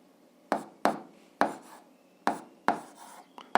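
Pen or chalk marks on a writing surface while working out an algebra answer, a handful of sharp separate taps and short scratches at an uneven pace, close by, with no talk.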